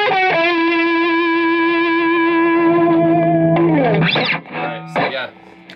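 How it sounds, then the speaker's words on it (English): An electric guitar runs through a Boss Angry Driver overdrive into a Blues Driver pedal, ringing out a loud sustained distorted chord that decays before a few short bent notes close it out. "Most high gain would be the Angry Charlie into the blues driver."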